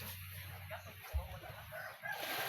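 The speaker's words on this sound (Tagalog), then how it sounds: "Ito naman yung alaga namin manok na puti." A white pet chicken clucks softly nearby in a short, fairly faint call against a low background hum.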